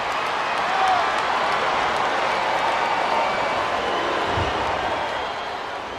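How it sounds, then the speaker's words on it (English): A capacity arena crowd in the WWE SmackDown vs Raw 2008 wrestling video game roars as a steady, dense wash of cheering that holds evenly throughout and eases slightly near the end. "This capacity crowd is making their opinions known tonight."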